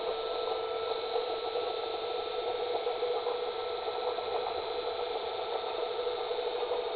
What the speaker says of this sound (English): Now I will start the motor, and you will see that speed of motor will be increased.